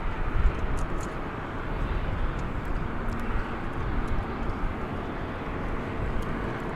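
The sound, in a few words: Airbus A321 aircraft at DFW Airport at night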